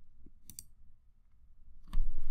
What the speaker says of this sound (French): Touche retour chariot sur le clavier.